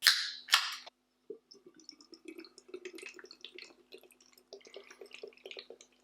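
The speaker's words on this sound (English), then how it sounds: "before we crack in, here is another look at the can. Right, let's get it open." A can of Lord's Brewing Co cranberry-infused pale ale cracks open with a sharp double hiss and pop up close, followed by faint fizzing and crackling as the beer settles.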